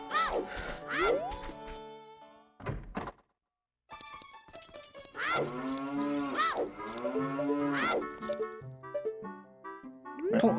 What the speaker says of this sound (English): See if the cows are hiding anything today.